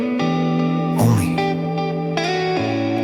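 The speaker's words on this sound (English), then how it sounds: "Clean electric guitar," Clean electric guitar playing slow bends drenched in warm reverb, sustained ringing notes that swell and shift pitch, mellow and steady in a soft rock setting, with no voices.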